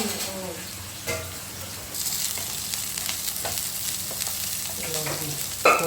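Onion and spices fry in a pan with a steady hiss, broken by a few stirring scrapes and one louder clatter near the end, all close by.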